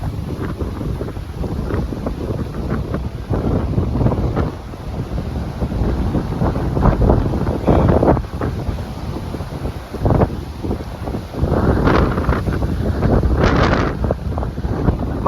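Strong, steady gusts roar across a windy beach at Torrox Costa on Spain's Costa del Sol, buffeting the microphone with heavy low rumble and blowing sand, continuous and loud throughout with no talking.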